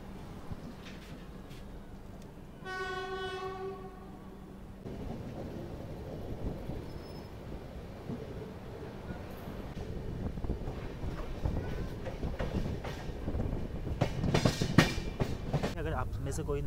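Bihar Sampark Kranti Superfast Express running, heard from inside a Third AC coach: a steady low rumble of wheels on track with rattling and clatter that builds louder, after a brief tonal chime near the start. Some faint voices mix in.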